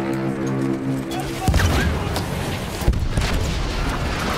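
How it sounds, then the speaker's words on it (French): A heavy blast booms out as an enemy cannon is blown up in the video game Battlefield 1, cutting off a steady engine-like hum, then rumbling on in a noisy battle din with a second thump. "j'ai fait péter son canon carrément"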